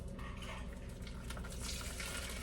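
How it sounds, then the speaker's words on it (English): Steady, dense frying sizzle from a pan, a continuous crackling hiss with faint clinks of utensils, close and fairly loud throughout. "Hear that sizzle?"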